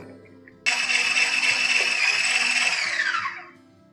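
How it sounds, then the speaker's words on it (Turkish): An electric mixer whirs into cake batter after the flour goes in for a zebra cake, starting abruptly, holding a steady high whine for about three seconds, then winding down as it switches off. "2 dakika boyunca tekrar çırpıyorum."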